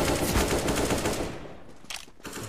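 Rapid automatic gunfire in a video game rattles loudly and continuously, then thins into scattered bursts and fades toward the end.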